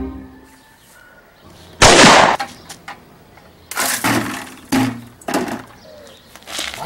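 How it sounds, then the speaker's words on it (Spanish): A sudden loud burst of broadband noise lands near the two-second mark, followed by several shorter, fainter bangs and crackles spread over the next few seconds in an otherwise quiet setting. "¿Qué fue esa explosión?"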